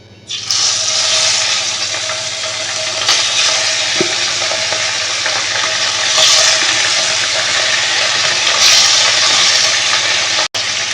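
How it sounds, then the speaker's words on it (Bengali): Small sea fish slid into hot mustard oil in a wok burst into a loud, steady sizzle that holds evenly for several seconds, with a few sharp clicks and pops along the way. "কড়াইটা কিন্তু গরম হয়ে গেছে এবার আমি আস্তে আস্তে মাছগুলো এর মধ্যে দিয়ে দেবো"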